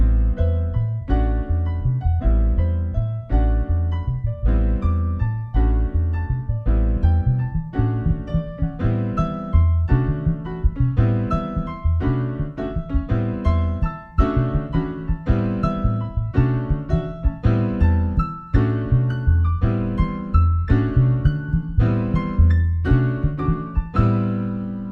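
Piano comps through a Latin 6/8 groove over a repeating bass ostinato, the chords striking in a steady lilting pattern with a firm, rounded low end, loud and unbroken for the whole passage with no voices.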